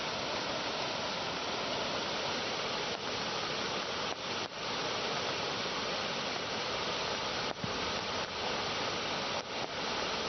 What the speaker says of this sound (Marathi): त्यामुळे शिवमोगा धबधबा ओसंडून वाहतोय।